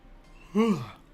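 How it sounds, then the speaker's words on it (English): A single short morning yawn, a brief rising-then-falling voiced exhale from one person, close and fairly quiet. "Sorry guys, morning yawns."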